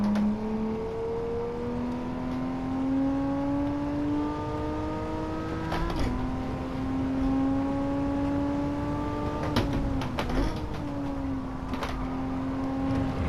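Porsche race car engine in Gran Turismo 7, a loud continuous drone rising steadily in pitch through the gears, with brief dips at upshifts and a sustained high whine under throttle.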